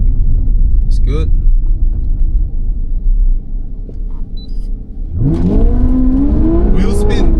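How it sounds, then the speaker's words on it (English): Car pulling away hard with wheel spin on warmed-up tires, a low engine rumble building into a loud rising rev with tire noise, close by, with no talk over it. "Wheel spin."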